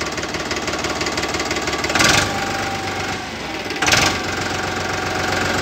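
A 2021 Farmtrac 45 tractor engine runs close by with a loud, steady diesel knock, rising in two short revs before settling back to a rattling idle.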